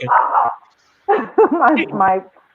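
A pet dog gives a series of yappy, vocal barks and whining yips close to the microphone, several short bursts in a row, loud and alone after a brief voice at the start.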